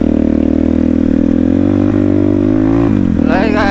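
A motorcycle engine runs on a snowy road near Pokhara, a loud, steady mid-pitched drone close by that shifts in pitch and rises toward the end.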